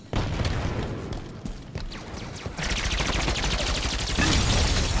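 Rapid bursts of Halo 5 video game gunfire crackle continuously, with fusillades of shots intensifying toward the end, loud and dense with no talking.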